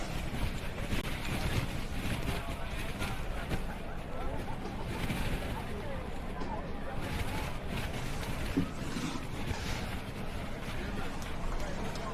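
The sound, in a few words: gusty wind blowing over outdoor slopestyle course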